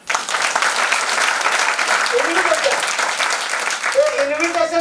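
Loud, steady applause from a meeting audience fills the room throughout, with a voice rising over the clapping near the middle and again at the end.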